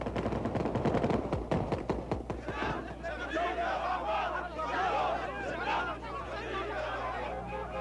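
Rapid bursts of gunfire crackle in quick succession as PLO fighters leave Beirut in 1982, then give way to a crowd shouting and cheering with scattered shots in the background.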